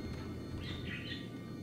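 Bird squawks and chirps from the video game Dead Space 2 sound through a steady low ambient drone, a few short calls clustered in the middle of a brief stretch with no voice.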